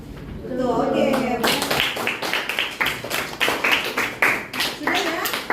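Classroom students clapping as a group finishes a presentation, a burst of many hands applauding close by in an uneven rhythm that settles into separate claps, preceded by a brief voice.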